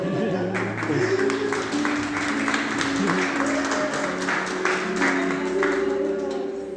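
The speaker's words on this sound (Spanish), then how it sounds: "Un aplauso." A church congregation claps during a pastor's sermon. A steady burst of applause runs throughout, with sustained tones and some voices underneath.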